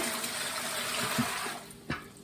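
Cold water pours steadily into a pressure canner that has a canning rack in the bottom. The pour is a broad, continuous gush that tapers off, ending with a brief splash.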